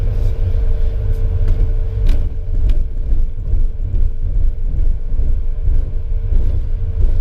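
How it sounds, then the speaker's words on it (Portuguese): A Fiat Cronos HGT on 205/45 R17 sporty tyres rolls over road studs, producing a steady low rumble from inside the cabin with faint repeated thumps and a faint engine drone throughout. "Vamos ver como é que ele se comporta aqui nos tachões."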